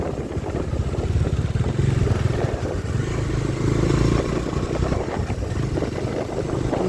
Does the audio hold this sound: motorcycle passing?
yes